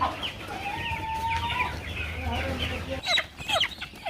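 Several Sonali chickens clucking nearby on a poultry farm in overlapping, busy calls, with a voice briefly audible in the background.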